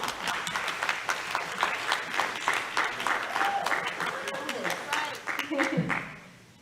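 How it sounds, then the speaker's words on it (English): Applause from a crowd of high school seniors at a senior signing day event, steady dense clapping sustained for several seconds before tapering off at the end. "Can you give yourselves a round of applause for getting here?"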